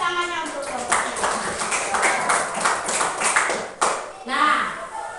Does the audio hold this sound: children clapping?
yes